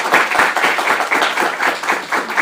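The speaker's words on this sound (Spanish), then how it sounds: "Les pido un aplauso para nuestros 3 presentadores." Audience applause for three presenters at a book presentation at the UNAM Faculty of Philosophy and Letters, a short, steady patter of clapping from a modest crowd.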